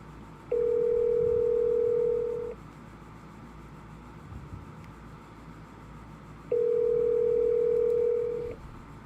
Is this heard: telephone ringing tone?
yes